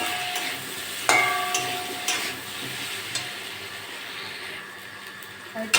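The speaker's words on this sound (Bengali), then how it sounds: "এটা নেড়ে চেড়ে ভালো করে কষে নেব।" Taro and rohu fish pieces stirred and fried in a pan with cumin powder and salt, a steady close sizzle broken by several sharp scrapes and clinks of a spatula against the pan.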